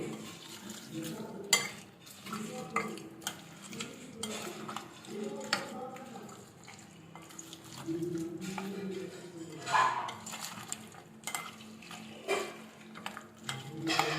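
Metal utensils clink and scrape against a pot as a thick bitter gourd pickle mixture with oil is stirred, with irregular knocks and scraping throughout, moderately close.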